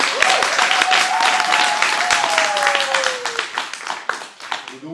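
Wedding guests applaud at a French civil ceremony, steady crowd clapping throughout with a faint whistle-like tone drifting through the middle.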